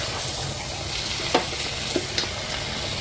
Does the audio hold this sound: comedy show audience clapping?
no